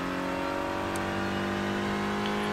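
Renault Clio Cup race car engine in iRacing, a steady close droning hum holding an even pitch throughout, alone with no talk.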